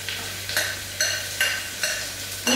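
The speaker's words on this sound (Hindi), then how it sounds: "अब हम इसमें डालते हैं कटी हुई प्याज जो बारीक काट के रखी है हमने" Finely chopped onions from three large bulbs frying in a pan, a continuous sizzle broken by regular stirring strokes roughly every half second, close and moderately loud.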